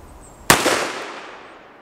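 One sharp, loud report from a Smith & Wesson 350 X-Frame revolver with a 7.5-inch barrel, a sudden crack followed by a decaying outdoor echo over roughly a second.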